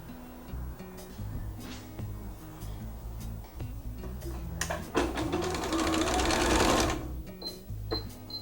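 A sewing machine runs a zigzag stitch around the edge of a fabric clutch, a rapid rhythmic mechanical chatter close by that swells louder partway through before easing back.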